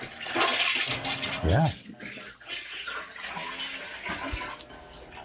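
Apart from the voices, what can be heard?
toilet flushing in a bathroom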